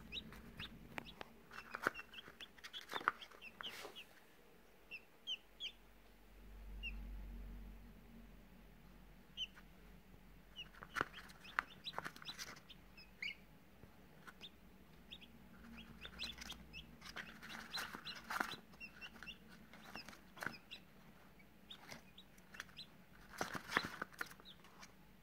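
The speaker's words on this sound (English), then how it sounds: "Day old chicks." Day-old Silkie chicks cheeping close by, repeated short high peeps scattered irregularly over a quiet room background, with a few soft low thumps and rustles.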